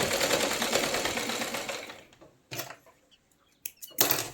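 A sewing machine stitches fabric for a Rajputi kalidar lehenga, running in a steady buzzing whir for about two seconds, then stopping and restarting in a few short bursts.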